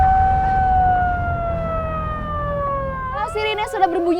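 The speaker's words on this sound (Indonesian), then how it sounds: "Sirine sudah berbunyi seperti ini, itu tandanya ada gempa susulan" A long wailing earthquake warning siren tone slowly descends in pitch, steady and fairly loud, signalling an aftershock, then cuts into a jumble of voices and noise at the end.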